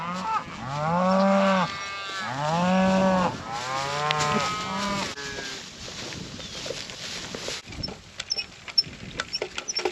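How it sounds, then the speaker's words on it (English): Cattle, including young bottle-fed calves, moo loudly in a hay field, several long drawn-out calls close by in the first five seconds, followed by quieter rustling and scattered small knocks. "I got these bottle calves following me"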